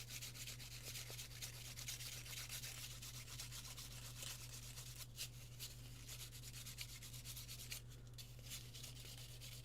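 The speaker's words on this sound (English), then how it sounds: "And now I'll just sand those down." Quiet, steady rubbing of sandpaper across a small Della Duck figure kitbash part, a continuous soft scratchy friction with slight rhythmic strokes and a low background hum, no talking.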